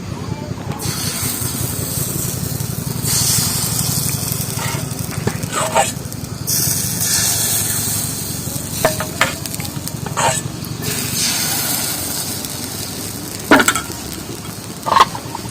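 Rice batter for chitoi pitha hitting a hot pan, a sustained close sizzle and hiss with occasional clinks, while a voice talks over it.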